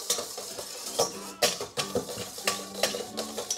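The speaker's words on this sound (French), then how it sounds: "tu vas prendre les jaunes d'œufs, tu les mets dans le saladier et tu les remues un petit peu" Egg yolks stirred in a mixing bowl, with quick repeated clinks and scrapes of a utensil against the bowl in an uneven, steady rhythm, close and fairly faint with no talking.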